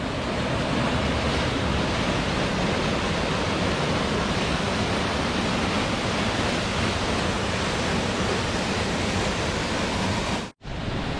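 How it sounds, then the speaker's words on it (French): Water rushes constantly at the Fontaine de Vaucluse spring, a loud, dense roar of flowing water with no break until a sudden cut at the very end. "Alors ici, il y a de l'eau partout."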